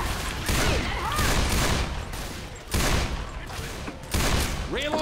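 Rapid video game gunfire in a zombie shooter, dense overlapping bursts of shots and booms with brief pauses, loud and continuous throughout.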